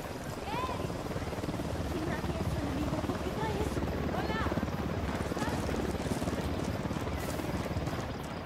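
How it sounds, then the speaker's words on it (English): A helicopter drones steadily overhead in the tactical shooter Ghost Recon Wildlands, a constant chopping rumble with wind, while voices talk over it. "Don't need that chopper."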